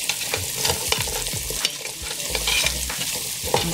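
Tomato cooking in a pot for a hearty vegetable beef stew, with a spoon scraping and stirring in repeated strokes over a steady, close sizzle.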